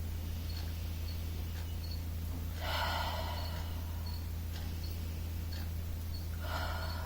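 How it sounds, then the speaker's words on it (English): Slow deep breaths during a Pilates breathing exercise come as a couple of audible airy inhale-exhale swells, close and soft, over a steady low hum with faint ticks. "More rounds of breath."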